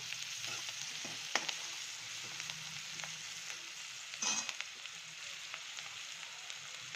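Onion frying with salt in a pan gives a steady, faint sizzle throughout, with a few soft stirring clicks and scrapes, heard close up and without any voices.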